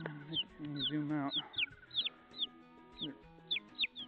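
Adult chickens cluck agitatedly in a backyard coop beside growing chicks, a run of short, sharp fowl calls recurring every half second or so, fairly close, over low murmuring and rustle.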